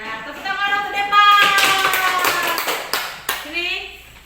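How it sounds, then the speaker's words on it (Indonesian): Sixth-grade pupils in a classroom clap for a classmate, a short burst of quick, loose claps that mixes with children's voices and speech throughout. "tepuk tangan untuk Depa."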